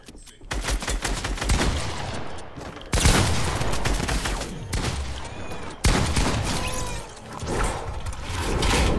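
Pump shotgun fire in the video game Fortnite, three loud sharp blasts spaced a few seconds apart, each trailed by clattering reload and build sounds, with no talking.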